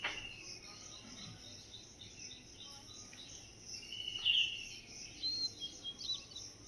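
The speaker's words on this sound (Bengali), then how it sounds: "এসব চারিধারে না পাখি ডাকে ভীষণ" Faint, scattered bird chirps outdoors on a cool, overcast morning after rain, set over a steady hiss of insects and ambient noise, with a few brighter calls near the end.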